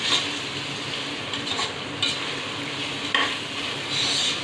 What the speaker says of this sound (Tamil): அடுப்பை எல்லாம் நல்லா ஃபுல் ஃப்ளேமில் வச்சுட்டு தான் வதக்கணும்